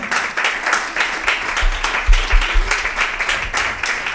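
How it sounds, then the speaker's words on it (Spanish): A church congregation claps together in a steady wash of applause during a service, loud and sustained, with faint voices mixed in beneath it. "¿Puede darle un aplauso al Señor todavía?"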